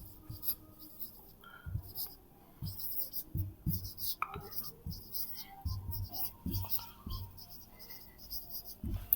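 Someone writes by hand on a board during an English grammar lesson, with irregular scratchy strokes and taps throughout while a teacher speaks.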